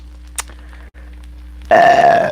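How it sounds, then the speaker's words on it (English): During a live mukbang of spaghetti and meatballs, a quiet room with a faint tap gives way to a single loud, drawn-out burp close to the microphone near the end. "Sorry, I keep burping."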